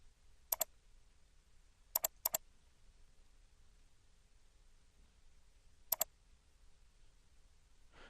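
Faint computer mouse clicks, several sharp single and double ticks spaced a few seconds apart, made while editing a WordPress theme in a quiet room.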